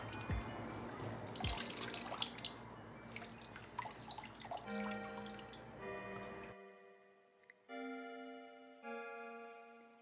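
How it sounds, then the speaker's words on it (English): Tap water pours steadily into a kitchen sink for soaking fabric in a tie-dye jeans project, a close hissing stream for about six seconds before it stops, with background music playing throughout. "I'm just going ahead and put some water in my kitchen sink"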